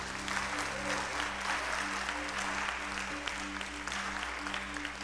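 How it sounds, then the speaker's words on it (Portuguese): A church congregation claps loudly and continuously during a Portuguese-language worship service, with a low steady organ or keyboard drone underneath throughout. "Aplauda bem forte ao Senhor."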